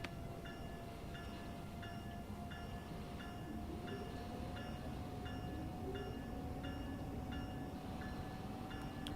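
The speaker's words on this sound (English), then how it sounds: "What a lovely sounding loco, though. Powering up." Locomotive powering up in Train Sim World 3 on the Northeast Corridor between New York and Trenton, a steady low engine drone with evenly spaced mechanical clicks repeating throughout, moderately loud and continuous.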